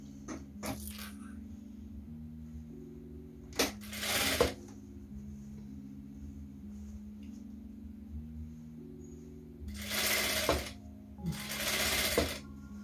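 A sewing machine stitches a flying geese quilt block in several short, distinct bursts of rapid needle clatter over a low steady hum, with quiet gaps and light fabric handling in between.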